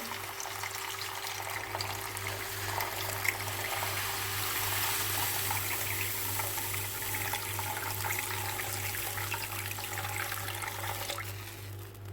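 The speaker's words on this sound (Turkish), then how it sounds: "4 su bardağı sıcak su ilave edeceğim yemeğimize" Hot water is poured steadily into a soup pot on the stove, a continuous close rush and splash of liquid with a low hum underneath, lasting the whole time.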